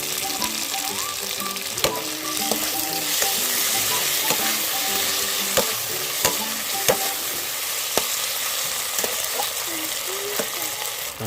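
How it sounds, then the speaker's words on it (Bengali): Chopped tomatoes frying with ground spice paste in a pan: a loud continuous sizzle up close, punctuated by sharp spatula knocks and scraping strokes at an irregular pace. "এবার আমি দিয়ে দেবো টমেটো কুচি"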